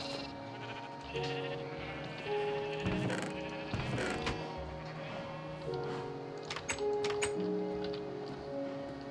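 Sheep bleating in Minecraft, several drawn-out nasal baas spaced over several seconds, fairly close, with light ticking game sounds between them.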